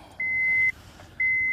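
Honda car warning chime sounding with the key on and engine off: two sustained, clear electronic beeps about half a second each, separated by a short gap, in a quiet interior.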